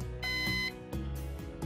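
A Synology NAS gives a steady electronic beep after its reset button is held, one sustained tone followed by a few shorter, clear beeps close by.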